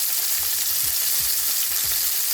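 Onions sauté in a pan for smothered pork chops, a steady loud sizzle with a few soft low thumps from stirring and no talking.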